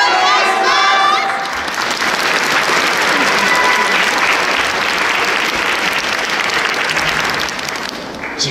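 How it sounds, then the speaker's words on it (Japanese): A festival audience applauds and cheers at a 15th-anniversary performance event, loud dense clapping with some shouts, while a voice speaks over the first second, then a steady roar that eases slightly near the end. "皆さん、ご声援よろしくお願いします。"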